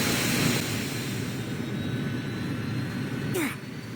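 Quiet, steady idle of an aircraft engine in the Roblox video game, a low even hum held throughout with a brief sweeping whoosh near the end.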